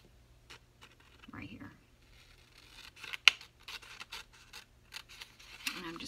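Scissors cut away a paper tab on a craft piece: a few short, quiet snips and soft paper scratches spread across a near-silent stretch, with faint voice sounds nearby.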